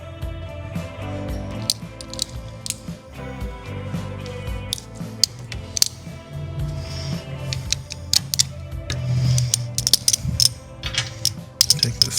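A small snap ring being worked down onto the shaft of a 1963-64 Cadillac cruise control unit, giving irregular close metallic clicks, snaps and scrapes at varying loudness.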